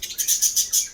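Parrots chirping in quick, bright repeated calls, five or six bursts within a second, close and fairly clear with no talk.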